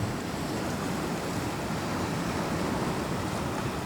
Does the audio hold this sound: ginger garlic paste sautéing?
no